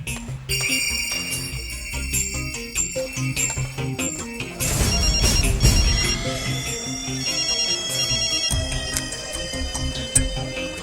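A mobile phone rings in a Malayalam film scene. A bright, repeating melodic ringtone plays close and loud, with a denser burst of sound about halfway through before the tones carry on.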